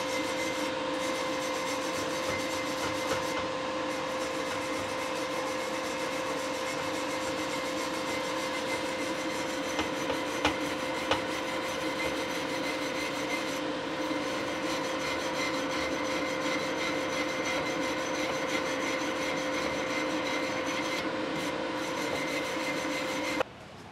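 A brush scrubs welding slag off freshly welded steel exhaust headers in a steady, continuous rasping rub, close and even throughout, stopping abruptly at the end.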